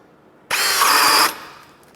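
Ryobi cordless drill running in high gear in drilling mode as it bores into a wooden board, a loud, steady whine that starts abruptly, holds for under a second, then cuts off.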